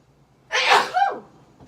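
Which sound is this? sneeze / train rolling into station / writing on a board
sneeze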